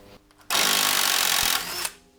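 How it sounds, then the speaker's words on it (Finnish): An impact wrench breaks loose a stuck bolt on a small, rust-proofed BMW while its rear shock absorbers are being replaced, giving one loud, close, continuous buzzing burst of about a second that cuts off abruptly. "lähtöö näin hyvin tuolla pulttipyssyllä"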